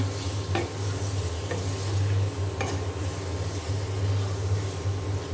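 Beef cooks with spices in a pan while it is stirred. Steady soft sizzling runs throughout, with a few light scrapes and clinks of the utensil against the pan. Nobody speaks.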